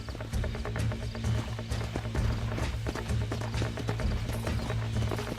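Horse hooves clip-clop steadily at a running pace in Red Dead Redemption, set over a constant low game hum and ambient western backdrop, close and moderately loud throughout.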